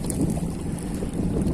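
Strong wind gusting at a seaside fishing spot, a steady broadband roar with low rumble, like buffeting across a microphone near the sea, with no talking.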